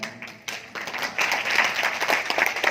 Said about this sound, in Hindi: अब आप लोग ताली बजा रहे हैं, आवाज बढ़िया नहीं है